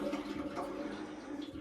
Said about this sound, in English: I've set up my siphon, oil siphon pump. And what that does is if I pump on this handle